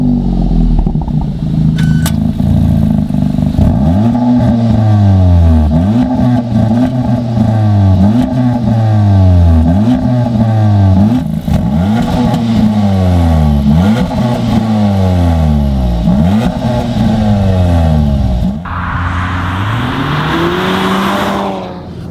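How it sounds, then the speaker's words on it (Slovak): A Cupra Formentor with Akrapovič exhaust and a two-litre turbo petrol four-cylinder, in Cupra mode, revs loudly and repeatedly, the engine rising and falling in a rhythmic series of throttle blips that ends in a rougher, crackling burst. "až kým si nezvolíte režim Cupra a necháte výfuky Akrapovič hrať svoj španielský metal"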